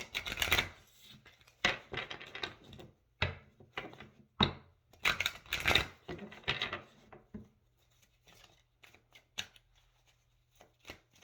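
Tarot cards being shuffled and riffled in quick bursts, close and crisp, with brief quiet gaps and a few scattered taps near the end.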